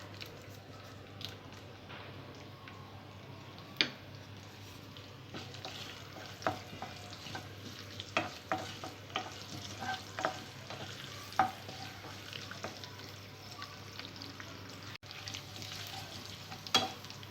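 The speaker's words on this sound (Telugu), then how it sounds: "తాలింపు కొద్దిగా ఫ్రై అయిన తర్వాత ఇందులో పసుపు వేసుకోవాలి." Garlic, dried red chillies and curry leaves fry in hot oil for a tempering, giving a steady low sizzle with scattered stirring clicks and scrapes of a spoon against the pan throughout.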